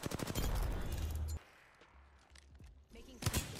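Gunfire in the Apex Legends video game crackles in a dense, loud burst of rapid shots, then falls to scattered fainter shots before another close burst at the end.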